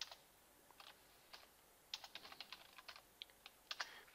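Typing on a computer keyboard: quiet, irregular clusters of sharp key clicks in short bursts, close and isolated in a hushed room with no talk.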